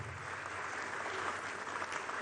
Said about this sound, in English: A round of applause for Honorable Minister.